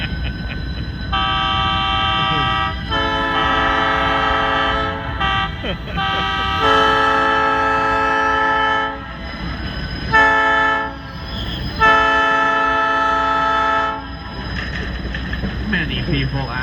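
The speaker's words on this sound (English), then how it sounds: "why we blow that sequence of whistles way up here on the mountain" A Leadville Colorado & Southern Railroad steam-era tourist train on a mountain curve blows a loud, near whistle sequence: several long sustained blasts with short gaps, echoing over low rumbling.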